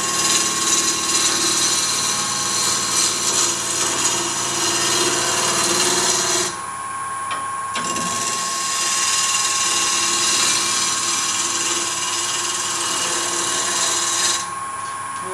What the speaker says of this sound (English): speed up a little bit now that we're getting a little more stable on the lathe